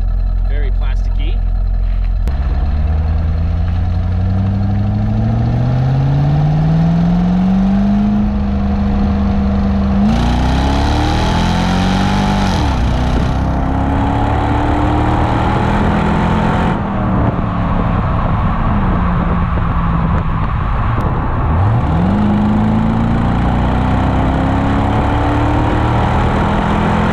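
A C5 Corvette exhaust revs repeatedly from a steady idle, the engine pitch climbing and dropping in several loud swells, recorded close to the car's rear.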